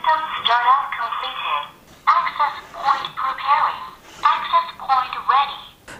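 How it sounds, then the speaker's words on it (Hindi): A WiFi CCTV camera speaks a recorded voice prompt during startup. The thin, tinny synthetic voice comes through a small built-in speaker in several short phrases separated by brief pauses. "तो यहाँ पे वॉइस कमांड मिला है"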